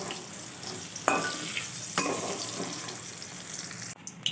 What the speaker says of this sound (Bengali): তো বন্ধুরা করলাটা আমার প্রায় ভাজা হয়ে এসছে